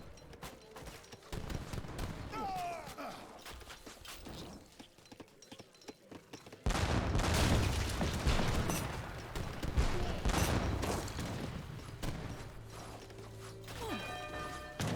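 Organ guns fire in an Age of Empires 3 battle as a dense spray of rapid crackling shots mixed with mechanical clatter and busy battle noise. The firing becomes louder and fuller partway through.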